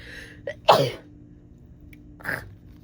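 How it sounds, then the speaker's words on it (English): A sharp sneeze bursts out close up after a short intake of breath, followed by a softer exhale or second small sneeze. "I just sneezed."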